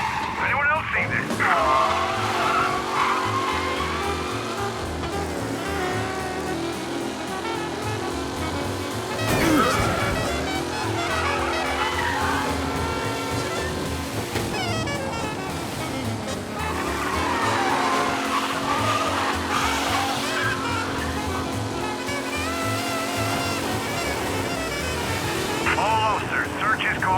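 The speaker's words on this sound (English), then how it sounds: "Officers reporting a race car driving at speed through the city." A race car tears through city streets in Mafia Definitive Edition, its engine rising and falling through repeated gear changes, with tire skids and passing vehicle noise, while a police radio voice talks over it at times.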